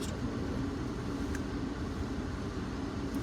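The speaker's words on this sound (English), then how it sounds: "So we will start the engine, put the car into first gear" A car engine idles steadily in the background after being started during a driving lesson, a low continuous hum that holds level with no talk over it.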